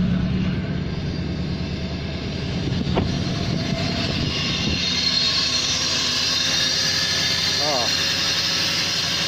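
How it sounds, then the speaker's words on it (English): Lexus LS400 engine idling with its air filter assembly removed, giving a steady loud mechanical drone with a whining belt-like tone, occasional knocks and clatter near the start, and a person speaking over it. "I thought that was a horrible belt noise, but it's because I've not got the air filter assembly on."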